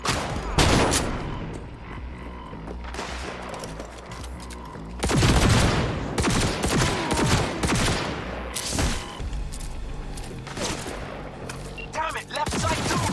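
Heavy gunfire in Cyberpunk 2077: sustained bursts of automatic weapons and booming shots cracking near and loud in repeated waves, with voices shouting in between.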